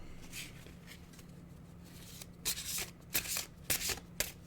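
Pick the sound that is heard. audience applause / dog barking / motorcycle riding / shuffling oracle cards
shuffling oracle cards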